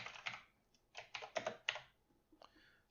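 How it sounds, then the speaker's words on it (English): Typing on a computer keyboard, clustered bursts of quick close-up key clicks separated by short pauses, with no talk. "you don't have to sit here and watch me type this whole model out here"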